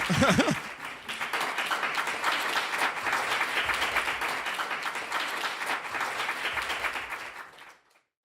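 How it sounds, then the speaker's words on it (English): Audience applause for Shane at an AiEvents Lion's Den evening at AMC Edinburgh, a dense, steady round of clapping that swells quickly, holds for about seven seconds and then fades out. "Round of applause for Shane."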